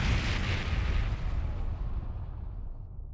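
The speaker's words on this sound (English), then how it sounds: "Sounds like screaming. And cannon fire." Heavy cannon fire in a video game booms and rumbles continuously, a loud wash of blasts and low roar that slowly fades at the end.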